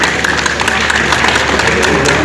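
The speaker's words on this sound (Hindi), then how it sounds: "आप दोनों ताली बजा दीजिए" An audience claps at a school Baisakhi festival: a continuous patter of many hands, with crowd noise running steadily through the whole stretch and no pause.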